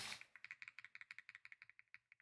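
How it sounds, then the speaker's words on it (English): A loud mechanical computer keyboard clicks in a quick, steady run of about twenty crisp keystrokes, close and alone. "I have a nice keyboard, but it's very loud when it clicks"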